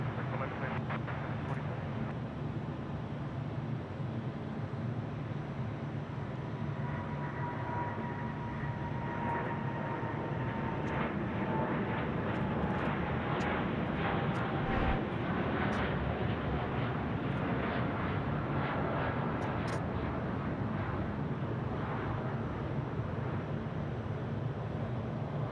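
Qantas jet airliner bound for Dallas on runway 34 left at Sydney Airport at night, a steady loud engine roar throughout, with a voice talking over it.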